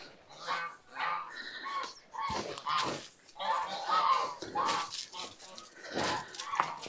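A large bird like a guan (jacu) calls in a rural orchard with loud, honking, goose-like cries in a broken series of several calls, close by, with someone talking intermittently.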